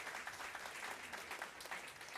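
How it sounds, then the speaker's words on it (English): Audience applause for a conference panel, a steady wash of clapping heard quietly from a distance, with no break across the short span. "Please give a huge round of applause for our panel today."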